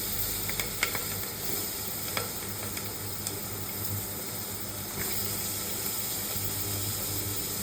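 Vegetables fry in a spoonful of butter inside a pressure cooker, giving a steady, dense sizzle with a few faint clicks and stirring scrapes scattered through it. No one speaks.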